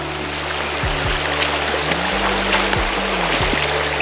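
Steady broadband rush of a river flowing at a ford, continuous and fairly loud, with occasional low rumbling thumps underneath.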